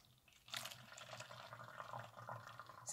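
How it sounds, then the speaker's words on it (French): Water poured into a container with cinnamon and cloves for an infusion, a soft continuous splashing trickle that starts after a brief pause and runs steadily, quiet and close. "Et vous allez y verser l'eau, le jus"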